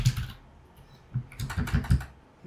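Keys clatter on a computer keyboard in short uneven bursts of close, fairly quiet clicks separated by brief pauses.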